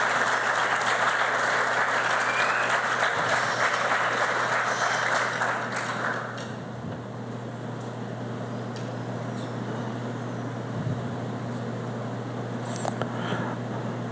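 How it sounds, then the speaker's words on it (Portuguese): Warm applause at a solemn ceremony honoring Sônia Muniz de Carvalho for the Eleazar de Carvalho Festival, dense clapping for about six seconds, then dying down to a faint room hum with scattered light sounds. "Aplausos."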